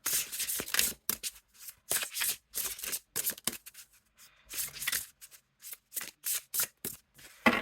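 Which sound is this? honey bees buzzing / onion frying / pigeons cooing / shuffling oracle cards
shuffling oracle cards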